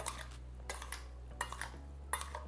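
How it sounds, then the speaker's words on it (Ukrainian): A spoon clinks against a bowl while fruit salsa is stirred, giving a few light scattered taps over a steady low background hum, quiet and close. "Додаємо та перемішуємо."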